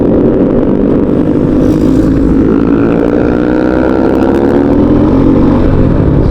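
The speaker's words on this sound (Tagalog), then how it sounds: "70 pa lang pero nagbabibrate na yung ating motor." A Rusi Macho TC 150 motorcycle engine runs at speed around 70 with vibration setting in, a loud, steady droning hum with rising harmonic tones and rushing wind noise throughout, no voices.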